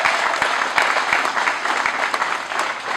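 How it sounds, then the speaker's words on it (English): A crowd claps continuously at a steady, fairly loud level, a full burst of applause with distinct claps standing out. "Give him a big round of applause."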